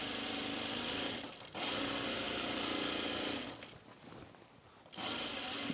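A sewing machine stitches a pocket onto a pullover camp dress, running in loud continuous bursts with a brief stop near the start and a slower, dragging stretch as it works through the thick pocket layers.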